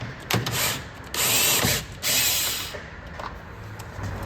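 A ratchet clicks in short, crisp bursts while loosening two 10 mm nuts holding a BMW X2 tail light, several separate spells of rapid pawl ticking, close and fairly loud, with no talk.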